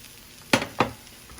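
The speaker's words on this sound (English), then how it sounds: "And our garlic is sizzling." Two short, sharp bursts of garlic sizzling in a hot frying pan, close by, against a low kitchen hiss.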